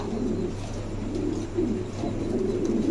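Caged pigeons coo at a wholesale pigeon sale, with overlapping low rolling coos from several birds going on continuously at moderate loudness.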